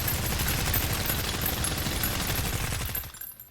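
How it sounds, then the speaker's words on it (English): Rapid burst of automatic gunfire in the video game Roche Limit, a dense rattling volley of shots that runs loud and close before cutting off abruptly into near silence. "In the burst of gunfire"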